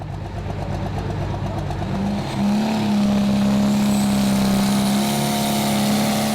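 A prostock pulling tractor named Neighbour's Nightmare roars at a tractor pull in Brande, Denmark, its engine building into a loud sustained high-revving drone as it pulls away down the track.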